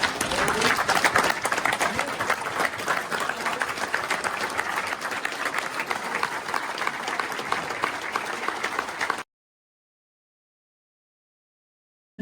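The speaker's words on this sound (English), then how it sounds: "give GOA a round of applause" A dinner crowd at a Gun Owners of America activist society event gives a long, dense round of applause, loud and steady for about nine seconds before cutting to silence.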